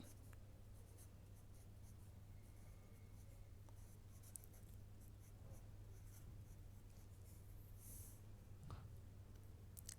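A pen scratching across paper while working through a geometry exercise, a faint and steady scribble under a low constant hum, with a few small clicks and no voices.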